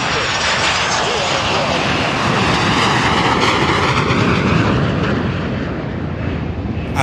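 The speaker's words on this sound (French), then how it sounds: "des avions des chasses de l'armée de l'air des forces armées angolaises ont survolé ce vendredi" Two Angolan air force Sukhoi Su-30K fighter jets fly over Kinshasa, producing a loud, continuous roaring engine wash with a broad rushing texture that holds steady throughout and fades slightly at the end.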